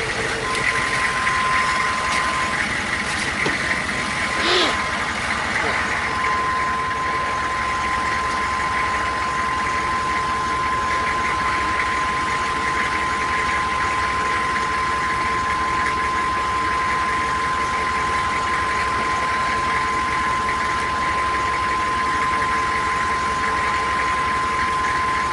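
Steady, loud engine of a 2000 Chevy 3500 truck running throughout, with a constant tonal whine from the hydro boost system while the steering wheel is turned, a brief clunk near the start, no talking.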